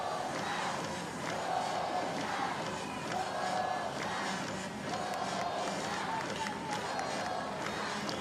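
A softball game crowd rises and cheers in a sustained, broad roar with scattered claps, steady and fairly loud throughout, with a faint voice mixed in.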